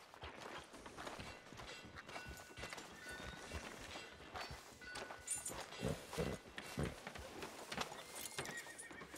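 Horse hooves clip-clop on the ground in the Red Dead Redemption 2 video game, a steady walking rhythm with a whinny, quiet and close, with faint game ambience behind.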